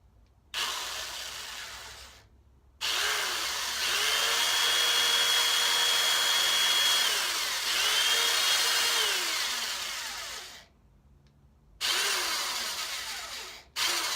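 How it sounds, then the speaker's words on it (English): A power drill bores into wood for a bookshelf build, its motor whirring steadily for several seconds with slight dips under load, then stopping, followed by two short bursts. "I'm going to drill until the tape hits the wood"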